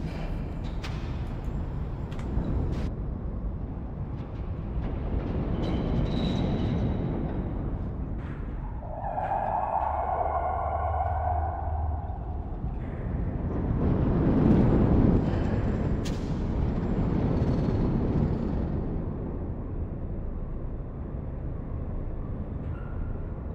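Layered subway ambience built from four combined subway recordings: low rumbling train drone with a swelling whoosh, a brief tonal screech midway and scattered metallic clanks, mid-distance and continuous.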